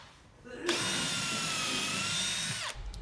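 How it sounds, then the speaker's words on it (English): A Ryobi cordless battery-powered grinder spins up abruptly, whines steadily at close range for about two seconds, then cuts off and winds down. "that is a Ryobi grinder that has the same battery."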